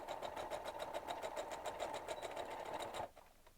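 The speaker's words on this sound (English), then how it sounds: "I'm just stitching these down." Sewing machine stitching fabric in a fast, even run of close mechanical rattling for about three seconds before stopping, with no speech.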